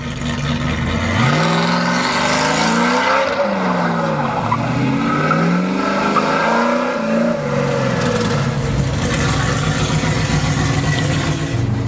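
A supercharged 1970 Dodge Charger muscle car engine roars and revs hard, its pitch sweeping up and down through gear changes, loud and close with tires squealing.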